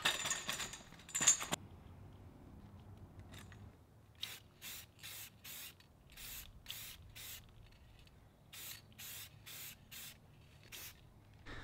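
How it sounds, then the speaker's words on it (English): An aerosol can sprays clear coat on a car hatch in a series of short, even bursts, close by, with a brief rattle and rubbing sounds at the start. "Just put the first coat of clear on there"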